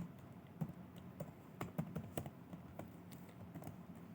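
Rapid typing of code on a computer keyboard, an uneven stream of light clicks and key taps at close range, with no talking.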